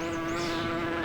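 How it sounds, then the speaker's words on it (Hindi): Bees buzzing in a continuous loud drone with a strong steady hum, constant throughout with no breaks or talking. "अरे यार, इन मधुमक्खियों का क्या करूं?"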